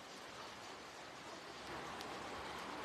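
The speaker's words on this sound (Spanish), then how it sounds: "Ahora sí está lloviendo." Steady rain hisses evenly all around in San Pedro de la Cueva, a continuous soft wash of falling water with no voices.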